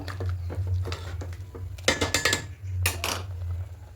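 A spoon stirs milk payesh in a pot, making scattered scraping and clinking strokes against the metal over a steady low hum, close and moderately loud.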